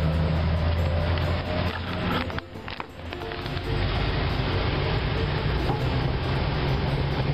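A 1983 Jeep CJ7, recently treated with carburetor cleaner, drives down the road in high gear, its engine and road noise a loud, continuous drone heard from inside, with a brief dip and rattle partway through.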